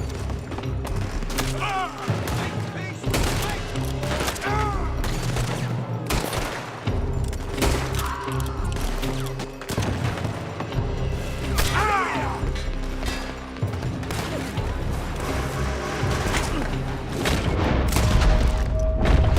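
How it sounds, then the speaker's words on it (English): Dense, sustained gunfire fills a Red Dead Redemption 2 shootout, with rapid rifle and pistol shots cracking near and far over a continuous din. Voices shout over the barrage. "They're shooting from that building."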